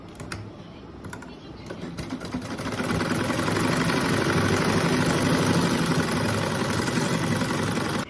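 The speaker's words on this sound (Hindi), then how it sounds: "इसको पहले हम इधर से सिलाई लगा लेंगे" A sewing machine stitches trousers, starting with a few light clicks and then settling into a continuous, rapid mechanical whir that grows louder and holds steady through the rest of the stretch, heard up close.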